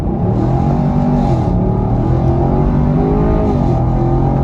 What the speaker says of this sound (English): we did get a little bit of wheel spin off the line that time